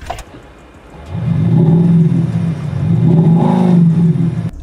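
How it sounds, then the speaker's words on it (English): A Maserati Ghibli diesel engine cranks and catches, settling into a deep, close rumble that swells once more midway and stays loud to the end, with no talking. "So let's just start the engine, talk about the sounds as well quickly."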